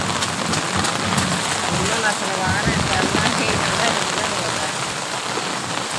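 Heavy rain pours down outdoors with children nearby, a dense steady hiss of drops on surfaces filling the whole stretch with no pause.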